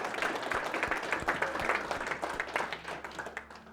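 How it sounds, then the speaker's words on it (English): A crowd applauds at a fishing match prize presentation, steady dense clapping throughout with no voices above it. "So massive round of applause for Alcon Hunt."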